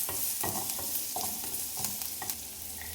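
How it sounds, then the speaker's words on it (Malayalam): Chopped onion sautéing in a pan for ragi soup, a steady close sizzle of frying with a spatula stirring and scraping in several quick strokes, no voices. "ഇനി നമുക്ക് ഒരു കൈപ്പിടി അളവ് ഉള്ളി ഇട്ട് കൊടുക്കുന്നുണ്ട്. അത് നന്നായി വഴറ്റിയെടുക്കുന്നുണ്ട്."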